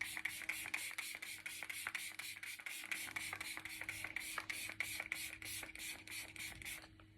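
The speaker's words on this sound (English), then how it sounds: "And spray to your heart's desire." MCO Beauty setting spray spritzed toward the face in a rapid series of about twenty short pumps, faint hissing bursts in a steady rhythm, close by with no talking.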